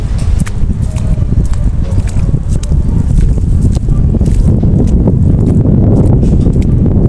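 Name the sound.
wind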